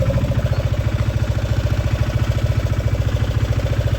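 An auto-rickshaw engine idling close by, with a rapid, even, throbbing putter and a rattly mechanical clatter that holds steady throughout.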